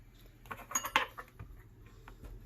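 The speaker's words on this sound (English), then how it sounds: "I'm gonna use the fork to seal it off" A fork pressing and sealing the edges of empanada dough, giving a few light metallic clinks and taps against a plate or surface, close by, over a low steady room hum.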